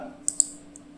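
Mouse clicks while running an app on an Android phone from a computer: two quick close sharp clicks and a fainter third tick against a quiet hum.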